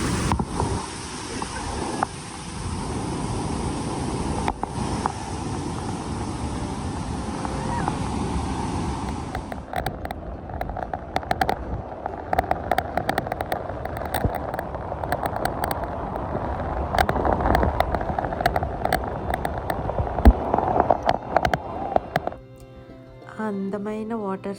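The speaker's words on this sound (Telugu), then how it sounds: "అందమైన వాటర్ సౌండ్, ఫాల్స్ సౌండ్ వింటారని నేను మ్యూట్ పెట్టట్లేదండి" Niagara Falls gives a loud, steady broadband roar of crashing water, with wind buffeting the microphone and faint voices beneath.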